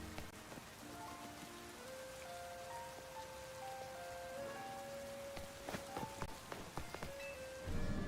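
Rain falling in a video game, a soft continuous patter and hiss with scattered nearer drops and a few sustained game music notes drifting over it, no talking.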